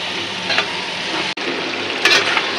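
Taro corms and shrimp frying in oil in a pan, a loud continuous close sizzle with occasional louder stirring scrapes and one brief cut in the sound.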